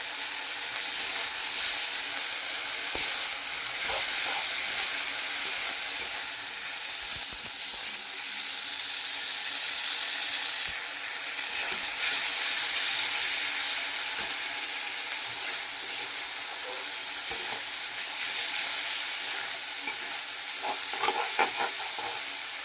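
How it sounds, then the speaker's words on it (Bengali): Spice paste for fish curry sautéing in a pan: a continuous close hiss and sizzle with scattered scrapes and clicks from stirring, steady throughout. "মশলাটা একটু কষানো হবে, তারপরে জল দেবো।"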